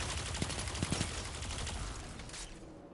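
Rapid automatic gunfire from a fast-firing weapon in the video game Destiny, a dense, continuous rattle of shots with a few sharper cracks, loud and close throughout before tailing off near the end.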